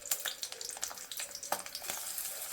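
Garlic frying in a couple spoons of oil in a pan, a steady crackling sizzle with sharp pops, heard up close and alone.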